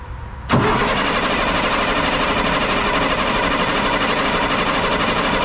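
A 1998 International 4700 with a DT466e diesel engine cranks with a sudden loud burst after brief quiet, then keeps up a dense, steady mechanical roar up close for several seconds.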